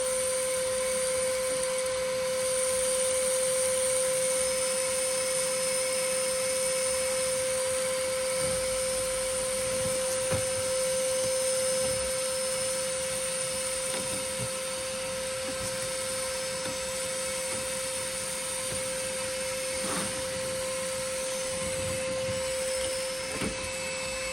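A Ryobi 18V ONE+ special edition shop vacuum runs continuously with a steady, high-pitched motor whine and airy rush, holding even loudness throughout with no talking.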